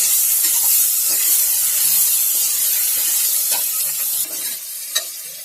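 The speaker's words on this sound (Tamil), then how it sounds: "ஒரே ஒரு தக்காளி நல்ல நீல நீளமாக கட் பண்ணி வச்சிருக்கோம் அதையும் போட்டு நல்லா வதக்கிக்கலாம்" Tomato cut into long strips sautés with coriander and mint in a pan for a veg biryani, giving a steady loud sizzle and hiss with occasional stirring scrapes and clinks.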